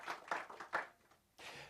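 Scattered audience clapping at a press conference in the Mangaung Metropolitan Municipality, with irregular hand claps at moderate distance, fairly faint, ending in a brief steady wash of noise.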